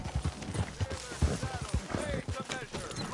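Horse hooves clip-clop at a steady trotting rhythm in the Red Dead Redemption 2 video game, close and fairly quiet, with a faint voice at times.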